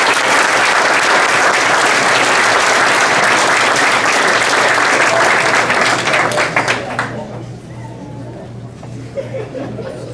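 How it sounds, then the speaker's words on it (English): A crowd at a high school football awards night applauds the returning players, dense loud clapping mixed with chatter and a little laughter, then thinning out and fading near the end. "Give them one more round of applause."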